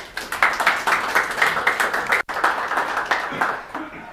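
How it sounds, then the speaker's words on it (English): An audience at a tech meetup applauds warmly, many hands clapping in a quick, even patter that holds steady before tapering off. "So please give a warm applause to Robert."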